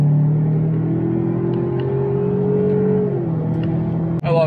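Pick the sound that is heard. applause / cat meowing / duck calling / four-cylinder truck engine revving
four-cylinder truck engine revving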